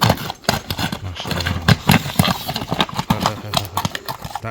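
A seven-year-old horse stamps and clops its hooves in sharp irregular strikes, close and loud, with a brief whinny and some nearby voices in the background.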